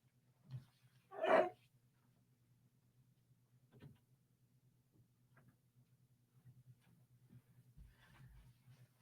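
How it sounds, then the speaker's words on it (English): A single dog bark bursts out once inside a podcast studio, fairly close and loud, with a couple of fainter thumps and low room hum around it and no talking. "I'm going to let him go so he's not barking in the background"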